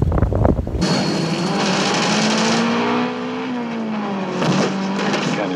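A car driving in a James Bond film scene set in Sardinia: a steady engine drone with tire noise and a brief squeal, fairly loud and close, following a short burst of other sound at the start.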